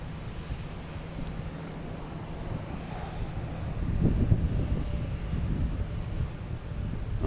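An Embraer Phenom jet takes off from Boston Logan with a broad, low engine roar that builds partway through and keeps on, heard from a distance with wind in the background.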